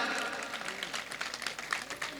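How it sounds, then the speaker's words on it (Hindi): Listeners at a Hindi poetry recital clap faintly and unevenly, the scattered applause partly under a speaking voice. "ताली बजाओ थोड़ी ढंग से यार"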